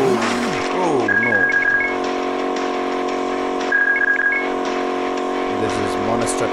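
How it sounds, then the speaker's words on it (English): Engine of a monster truck climbing hills in a kids' mobile racing game: a close, steady electronic motor whine with pitch swoops and short beeping tones, under a voice talking. "This is Monster Truck uphill game."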